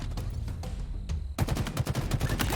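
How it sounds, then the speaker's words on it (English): The Breacher BR in the video game Halo Infinite fires in rapid three-round bursts, crisp close shots repeating in quick clusters, faint and sparse at first, then a dense rattling run of shots after the first second. "Next we have the Breacher BR. It's able to 3-shot burst, or 3-round burst"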